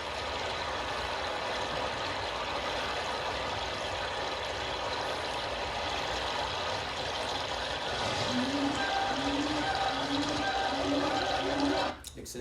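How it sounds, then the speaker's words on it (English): AI-generated waterfall in Thailand: a steady broadband rush of falling water holds throughout, with a faint warbling tone rising near the end before a brief cutoff. "So for example, if I had asked for a waterfall in Thailand, it might make something that sounds like this."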